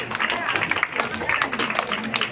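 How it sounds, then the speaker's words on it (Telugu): Audience clapping together at a felicitation ceremony honouring committee members and elders, a dense, steady patter of many hands sustained throughout, with voices mixed in. "ఒకసారి గట్టిగా క్లాప్స్"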